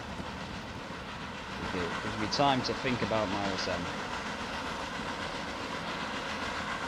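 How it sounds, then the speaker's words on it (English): Train rumbling and clacking along rails in the video game Transport Fever, hauled by two engines, one big and chunky and one small and streamlined, steady and moderately loud throughout while someone talks over it. "And marvel at this marvellous train"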